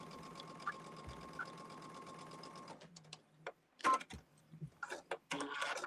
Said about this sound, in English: So I'm going to go ahead and put this in, and I'm going to sew down the middle.